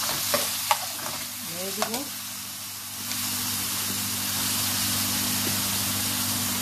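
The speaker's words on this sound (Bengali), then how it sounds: "এইভাবে আমরা মাছটাকে 2 থেকে 3 মিনিট ভাজবো" Swordfish pieces frying in a pan for spaghetti: a steady, fairly loud sizzle runs throughout, with a few utensil clicks and scrapes early on while a voice speaks briefly over the frying.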